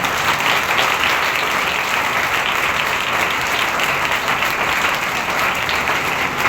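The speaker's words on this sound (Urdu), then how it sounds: "آئے یسوع کے لیے زوردار تالیاں کریں" Loud, sustained applause from a church congregation at a Sunday service, a dense steady wash of clapping that runs evenly and unbroken from start to finish.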